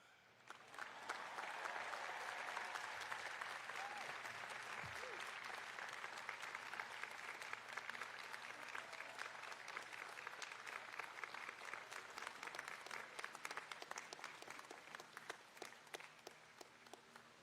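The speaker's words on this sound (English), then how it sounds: "I'd offer another round of applause" Audience applause at a university commencement ceremony, a large crowd clapping continuously and evenly at moderate distance for the whole stretch, with dense overlapping claps.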